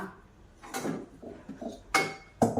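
An iron kadhai is picked up and set down in a home kitchen, giving a few sharp metallic clanks and knocks spaced unevenly, with softer clatter of utensils between them.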